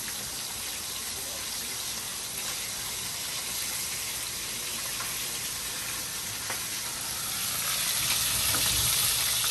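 Fish frying in oil in a rural home kitchen gives a steady, close, dense sizzle with bubbling crackle throughout, swelling slightly louder toward the end.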